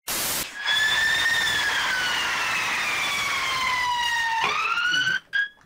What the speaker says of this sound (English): Why is there an ambulance?